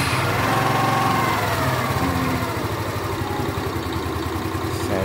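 A Hero Xoom 110 ZX scooter's small engine runs with a steady, close, buzzing hum and a fluttering low throb throughout, with no voices.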